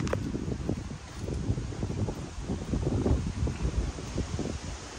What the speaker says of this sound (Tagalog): Lakas pala yung hangin dito.